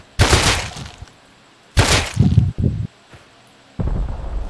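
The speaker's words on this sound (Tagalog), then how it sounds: "nakarinig lang ng putok" Gunfire bursts in the survival video game Rust: two loud, close blasts with rumbling tails, a quick follow-up pair of shots, and another heavy burst at the end, separated by near silence.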